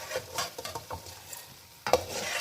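Phulki boondi fry in hot oil and are lifted out with a metal spoon, bringing soft sizzling, scraping stirs and a sharp clink near the end, quiet and close.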